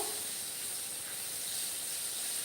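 Asafoetida and garlic paste sizzling in hot oil in a pan, a steady, close, continuous hiss without breaks, loud and even throughout with no talking.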